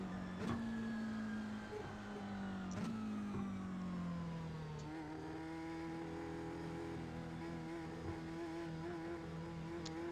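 Race car engines from the iRacing video game drone steadily on track at Watkins Glen, a buzzy whine shifting pitch as gears change, with no talk.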